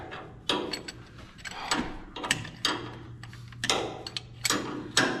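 A ratchet wrench works a starter bolt with a lock washer, clicking in short repeated bursts of ratcheting as small partial turns are made, fairly close and with no talking.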